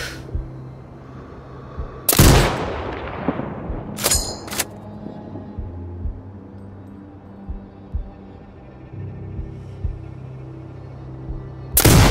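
Sniper rifle shots in Sniper Ghost Warrior Contracts 2, heard as loud, sharp cracks: one at about two seconds followed by a long rolling echo, a quick pair soon after, and another at the end, with quiet ambience between.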